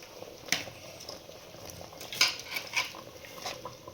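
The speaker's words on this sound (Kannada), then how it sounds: "ಕರಿ ಈಗ ಮಸಾಲೆ ಕುದೀತಿದ್ದಲ್ಲ ಈಗ ಕ್ರ್ಯಾಬನ್ನು ಹಾಕೊಳ್ಳೋಣ" Crab pieces dropped into bubbling curry masala in a home kitchen, a steady simmering hiss broken by a few clinks and soft splashy knocks of pieces and utensils against the pot.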